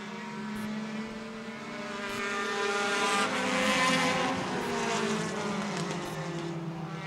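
Stock cars at Schooner Bay racing three wide into turn one, a loud steady engine roar with droning tonal harmonics swelling to a peak midway, then easing slightly as the pack pushes on.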